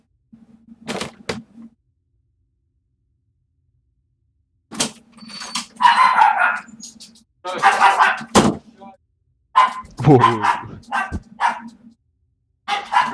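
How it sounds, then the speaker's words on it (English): Dogs bark in loud clustered bursts at close range, separated by pauses, with a brief exclaimed voice among them. "Hungry puppies."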